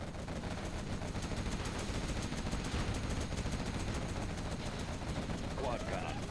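A quad cannon fires in a video game, a rapid stream of repeated gunfire bursts rattling continuously at a moderate level, with game voices and sounds around it.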